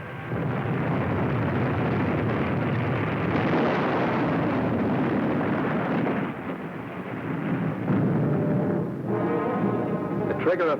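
Deep, sustained rumbling boom of a depth charge exploding near a submarine, loud and continuous with a dense roar that swells and then settles, a voice briefly audible near the end.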